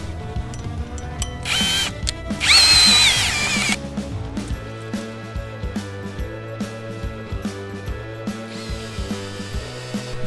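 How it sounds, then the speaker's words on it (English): A power drill fitted with a 13mm socket whirs in repeated short bursts with ratcheting mechanical clicks, close up, including one louder, higher-pitched spin midway, tightening chain link fence hardware. "Then I'm going to take my 13mm wrench on my drill and tighten it down."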